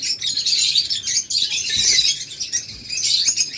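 Lovebirds for sale, including egg-carrying pairs, chirp and tweet continuously in a dense, overlapping chorus of high, bright calls, steady and fairly loud throughout with no talking.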